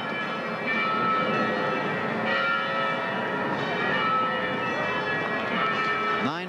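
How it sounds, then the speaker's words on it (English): Church bells ring steadily with sustained, overlapping tones, while training aircraft roar past overhead at low altitude during the 1988 Winter Olympics, an engine whine sweeping in near the end. "Hear the church bells."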